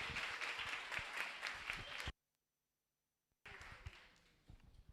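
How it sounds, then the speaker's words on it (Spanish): Audience applause at a Spanish-language climate change round-table conference, a dense burst of clapping that stops abruptly for over a second, then resumes and fades out. "Un aplauso para Leandro."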